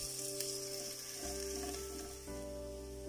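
Sliced onions and chopped garlic fry in a pan with a steady, close sizzle, crackling evenly with no voices.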